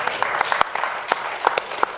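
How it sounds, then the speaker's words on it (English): Applause from an audience at a youth promise launch event, a short burst of scattered clapping with a few sharper claps standing out, moderately loud with no talk over it. "you can clap for that."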